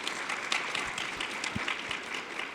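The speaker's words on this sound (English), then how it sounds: "yes, a round of applause" Steady audience applause at a conference event, a dense wash of clapping that holds at an even level throughout with no voices over it.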